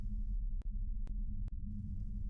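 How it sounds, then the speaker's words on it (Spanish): A slow, low throbbing heartbeat effect pulses under a steady hum in a Spanish audio drama of Poe's The Tell-Tale Heart, with faint clicks and no talk. "el corazón latía con mayor violencia, cada vez más precipitadamente y con más ruido"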